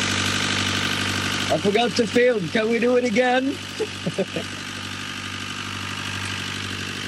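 A boat or vehicle engine, running again after a burnt relay connection was replaced and started with multi-spray used as starter spray, idles steadily as a low hum throughout, with people talking over it in the middle.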